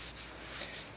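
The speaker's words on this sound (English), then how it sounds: "so I'm going to sand it up to 220" Sandpaper rubbing on a wooden bowl during hand sanding up to 220 grit, producing a steady, close abrasive rasp for the whole moment with no voices.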